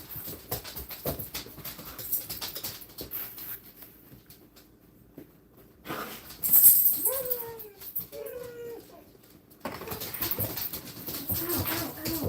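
A dog whimpers excitedly in short whiny cries partway through, among soft scratching and rustling.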